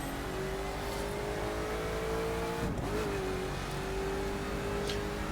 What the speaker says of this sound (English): It's extremely funny to see a Koenigsegg drifting.